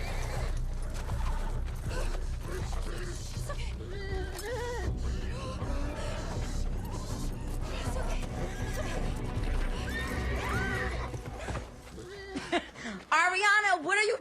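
A horse in a period TV drama whinnies loudly near the end after a long stretch of dialogue and background score, with faint hoof clatter underneath.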